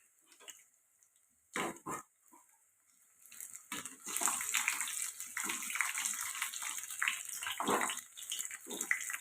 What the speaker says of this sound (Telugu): ఇవి కూడా ఇలా ఫ్రై అవుతున్నాయి కదండి.